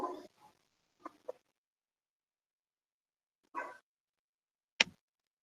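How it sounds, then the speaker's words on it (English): A few dogs barking somewhere in the background: scattered short barks and a quick pair, faint and fairly distant, ending with one sharp click. "Sorry about the dogs if you can hear them."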